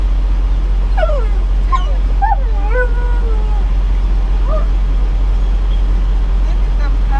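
A puppy whimpers and yips in a few short, high, wavering cries over a steady low engine hum, as though heard inside a vehicle, with people talking around it.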